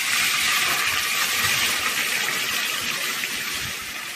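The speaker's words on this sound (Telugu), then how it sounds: "ఇప్పుడు చారు తాలింపులో పోసేద్దాం." Moong dal rasam pours steadily into a hot tempering, giving a continuous close, loud gushing and sizzling wash of liquid that fades slightly at the end, with no talking.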